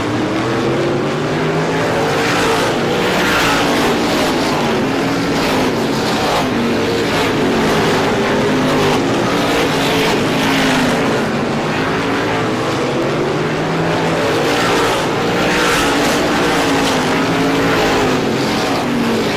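Race cars roar continuously around Star Speedway during the ISMA Classic 150, a loud, dense engine drone with rising and falling pitch as the cars pass, with no break or talk.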